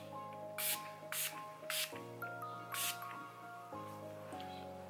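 Several short hissing bursts of Urban Decay All Nighter setting spray, spaced about half a second apart, over steady background music.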